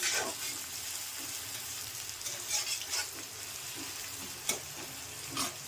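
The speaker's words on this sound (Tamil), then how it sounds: "வெங்காயம் நல்லா வதக்கணும்." Onions sautéing in a pan for vegetable upma, a soft continuous sizzle with occasional scraping stirs, fairly quiet and close, no talking.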